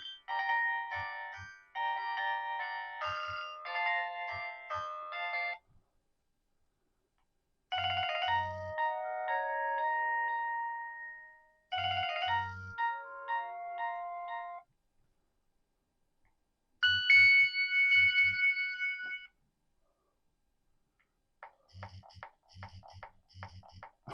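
A retro Nokia 6220 mobile phone ringtone plays in several short melodic bursts separated by pauses, with a low buzzing vibration pulsing along with each phrase.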